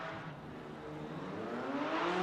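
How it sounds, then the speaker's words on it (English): Porsche race car engines in an esports racing game rev up before a sprint race start at Silverstone, a steady rising engine drone that swells slightly toward the end, no talk. "The revs rise for the start of this sprint race."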